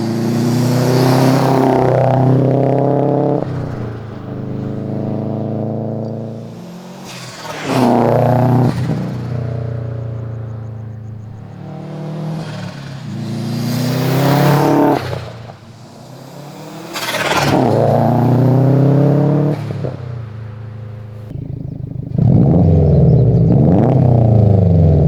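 Subaru WRX catback exhaust revving repeatedly, a loud, deep, throaty engine note rising and falling in several long pulls with a bassy rumble, no voices over it.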